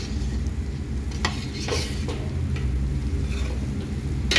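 Rice for chicken biryani is stirred in a pot: a continuous scraping and shuffling of grains against the metal with a soft sizzle underneath, plus a few sharper clinks of the spoon, close and steady.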